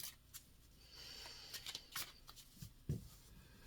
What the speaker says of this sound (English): Cut the card deck.